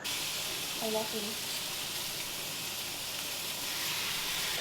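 Steak frying in oiled pans gives a steady, even sizzling hiss that fills the whole clip, with a brief faint murmur of voice early on.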